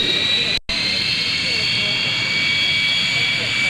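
A Lockheed T-33 jet trainer's engine whines loudly and steadily as it taxis past a crowd at an air show, a high sustained tone with a brief dropout near the start.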